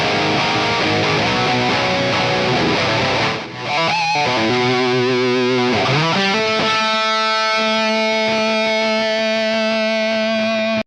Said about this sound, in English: the MESA Boogie Mark II distortion